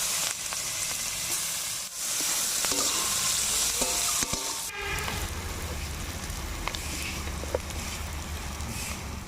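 Halved eggplant fries in oil, a loud hissing sizzle that surges as pieces go in, with clattering handling sounds partway through before the frying settles into a steady crackle; nobody speaks.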